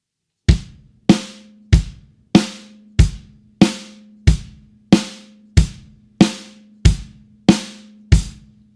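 A steady, simple drum groove of evenly spaced hits on a basic kit, kick and snare trading punchy strikes with short ringing tails, snare on 2 and 4 with hi-hat, played alone without any talking.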